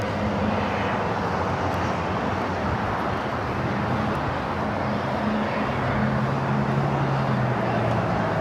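A China Southern Cargo Boeing 777 freighter taxiing at LAX gives off a continuous, fairly loud jet engine drone with a steady low hum, holding even throughout and joined by a rising tonal whine near the end.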